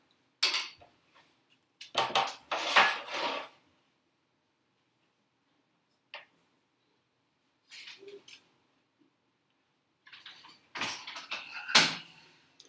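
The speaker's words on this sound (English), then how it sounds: "we're just going to lightly stir it together" Spoon scraping and clinking in a pan of ingredients with crushed red pepper over medium-low heat: several short bursts of light stirring and metallic scrapes separated by silence, close and moderately loud.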